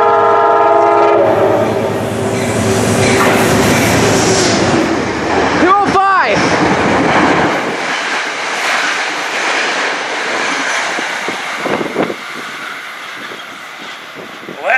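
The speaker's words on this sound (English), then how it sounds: "Train to Poughkeepsie." A Metro-North train rumbles past close by at Scarborough station late at night with loud, steady rail noise, then sounds a strong horn blast in the middle before the clatter fades. A person speaks over the passing train.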